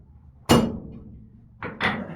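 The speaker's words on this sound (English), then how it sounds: "If I hit with the heel of my hammer," Heel of a blacksmith's hammer striking metal on an anvil while cutting on the hardy, one loud ringing clank that decays, then two quicker lighter strikes close together.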